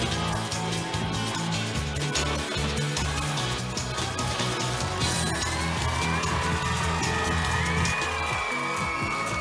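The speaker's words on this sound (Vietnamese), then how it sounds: "Một tràng pháo tay cho Betty!" Crowd applause, cheers and whoops for a model at a church fundraiser fashion show; dense, continuous clapping and shouting throughout, fairly loud, with some voices calling out over it.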